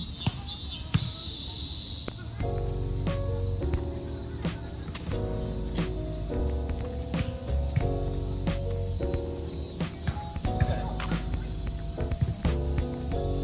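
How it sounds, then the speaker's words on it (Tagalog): Loud, steady high-pitched drone of insects among the trees of a flower park in Japan, with a tonal melody playing underneath. "Maraming puno kaya medyo maingay ang mga kulisap ngayon."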